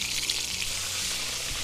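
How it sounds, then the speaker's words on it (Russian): Meat patties fry in oil in a kazan, a steady close sizzle with soft bubbling throughout. "я их буду порционно обжаривать"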